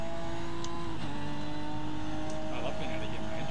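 A race car engine in a Ginetta Supercup racing video game at Estoril drones steadily and shifts pitch as it revs and changes gear, under constant talk.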